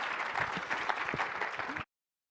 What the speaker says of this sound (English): Please give a round of applause to Tom Digby.